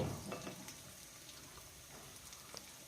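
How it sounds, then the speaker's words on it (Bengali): Chopped garlic and onion frying in oil for a radish greens dish, with a soft, steady sizzle and faint scattered crackles, fairly quiet and continuous. "রসুন আর পেঁয়াজটাকে হালকা কালার চেঞ্জ হওয়া পর্যন্ত ভেজে নিতে হবে"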